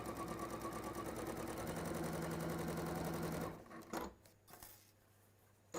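Sewing machine running a straight seam on fabric with the extension table removed: a rapid, even buzzing stitch rhythm, close and steady for several seconds, then halting, followed by a few quiet clunks and near silence.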